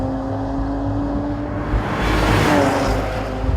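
A 2014 Porsche Panamera 4S with PDK transmission launching hard from a standstill in Sport Plus, its engine note swelling into a loud, rising roar as it accelerates away, close and without talk.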